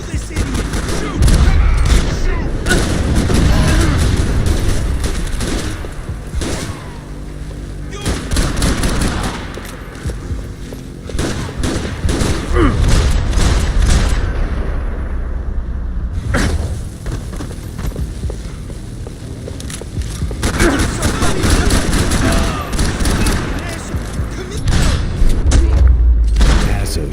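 Loud, sustained gunfire from a Max Payne 3 shootout: rapid automatic bursts and heavy booming shots pound almost continuously, with brief lulls, under occasional shouted voices.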